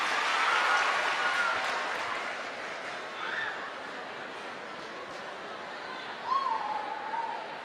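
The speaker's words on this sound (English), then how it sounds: "give yourselves a round of applause and take a seat" An audience breaks into a round of applause, loud at first and then thinning into scattered clapping, with a few voices and a chuckle mixed in.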